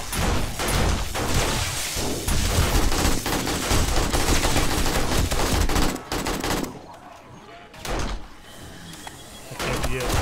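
Automatic gunfire rattles in sustained bursts during a horde night in 7 Days to Die, dense and loud for about six seconds, then breaking off into quieter pauses with a short renewed burst.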